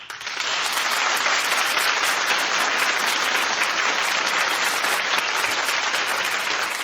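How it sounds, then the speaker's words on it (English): A talk-show studio audience claps in a show-of-applause vote, a loud, sustained, even burst of many hands that starts quickly and carries on without pause. "Clap if you think Kendra and Hank are worse."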